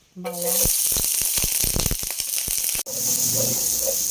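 Garlic sautés in a pan with a steady, close sizzle, broken by quick scraping and tapping strokes, while a voice speaks briefly at the start and again near the end.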